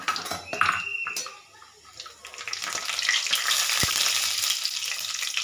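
Bay leaf, a cinnamon piece and cumin seeds dropped into hot oil for garlic spinach: a few metallic clinks of a utensil on the pan, then a rising, steady close sizzle.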